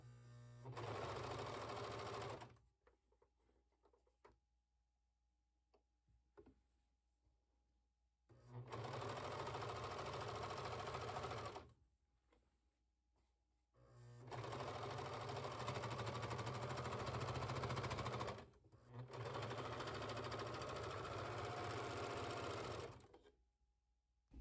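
A sewing machine stitches along a dress shirt sleeve, running in four long steady bursts of motor whir separated by quiet pauses, close and alone with no talk.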